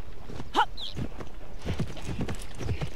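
Horse hooves clip-clop at a steady walking rhythm while riding in a video game set on a riding stable, moderately close, with a brief faint whinny-like sound early on.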